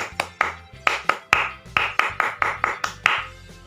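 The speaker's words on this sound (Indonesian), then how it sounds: "mari kita tepuk pramuka dulu" Scout group rhythmic clapping, the Indonesian tepuk pramuka: about a dozen sharp, close hand claps in a patterned rhythm with short gaps, no voices.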